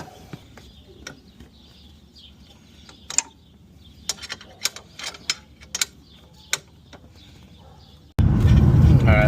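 Sharp ratchet clicks while the strut bar bolts are tightened on an Infiniti FX, a scattered run of close, crisp ticks over a quiet background, then a sudden loud burst of broadband noise at the end.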